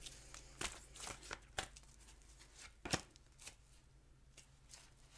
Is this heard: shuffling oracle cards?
yes